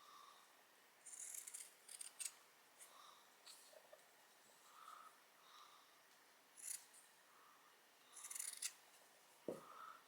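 Scissors snipping around a glued craft piece for a spindle snowman: scattered short cuts and rustles spread across the stretch, quiet and close with no talking.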